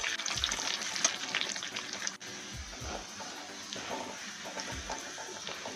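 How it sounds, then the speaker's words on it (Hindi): Garlic frying with dried red chillies in a pan for a dry masoor and okra curry, a steady close sizzle with a few stirring knocks and scrapes, no voices. "तो लहसुन को दोस्तों गोल्डन ब्राउन कर लेंगे।"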